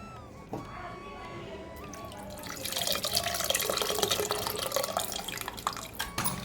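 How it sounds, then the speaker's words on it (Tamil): Water pours steadily into a pot of red keerai sambar, a rushing splash that swells and keeps going for several seconds, with a few clinks of metal. "இப்போ கொஞ்சம் எக்ஸ்ட்ரா தண்ணி சேர்த்துக்கலாம்"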